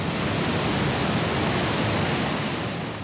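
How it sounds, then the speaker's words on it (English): Turbulent river rapids at Araracuara roar in a steady, dense wash of rushing water, loud and continuous throughout with no voices, fading slightly at the very end. "the rapids of Araraquara support many different life forms"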